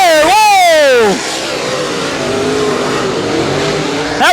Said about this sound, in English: Jason Hammond scraping the front stretch wall